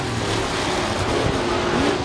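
Race cars roar around an oval track in a dense, continuous engine howl, their pitch sweeping as they pass nearby, with no voices above it.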